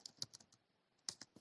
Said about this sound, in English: I will type in the value counts